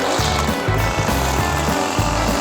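A racing lawn mower engine runs loud and close, its steady roar pulsing in a rough, uneven rhythm as it is revved, with no talk.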